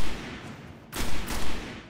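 Gunfire in the video game Destiny comes as two or three quick, close, punchy shots in rapid succession over a constant roar of ambient noise.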